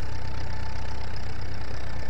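A small, low-horsepower tractor idles in a farming simulator game, its engine a loud, constant drone that holds steady throughout with no talk.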